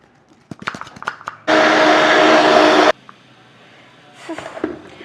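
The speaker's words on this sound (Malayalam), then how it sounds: "ഇനി ഇത് ഒന്ന് നല്ല പോലെ ഒന്ന് അടിച്ചെടുത്താൽ മതി" Kitchen blender whirring through frozen Horlicks milk with a little sugar, a loud steady motor roar running about one and a half seconds before cutting off, with clicks and handling noises around it.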